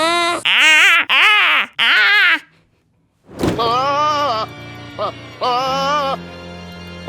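Goats bleating in loud, drawn-out, wavering cries like an old squeaky door hinge, several calls in quick succession, then a brief silence and more strained, creaking bleats.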